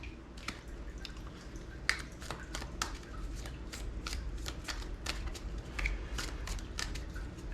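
Tarot cards being shuffled by hand, a run of crisp riffles and soft flicks at close range, fairly quiet over a faint steady hum, no talking.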